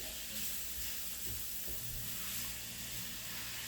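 Italian sausage sizzles and fries steadily in a Ninja Foodi, a continuous close hiss with soft scraping and stirring knocks as the meat is broken into crumbles.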